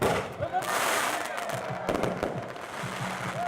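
Fireworks and firecrackers at the Tet Festival with dragon dance outside Mary Queen of Vietnam Church in New Orleans East crackle in rapid bursts of pops, with a voice speaking over them.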